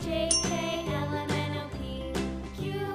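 A xylophone plays a bright run of struck, ringing notes in a steady melodic rhythm, with a tinkling chime near the start and no voices.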